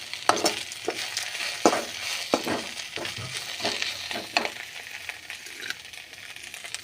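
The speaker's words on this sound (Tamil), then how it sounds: "பாதி கொட்டி கிளறிட்டோம்" Drumstick leaves and egg being stir-fried in a pan, with a spatula scraping and tapping in irregular strokes over a soft, steady sizzle, close and moderately loud.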